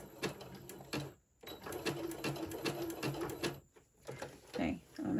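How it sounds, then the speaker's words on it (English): A home sewing machine stitches a fabric pencil case with polyester thread at a 2.5 stitch length, its motor whirring in short bursts that pause and restart, with someone talking over it. "Okay, I'm going to sew it one more time. And I'm going to run over that again."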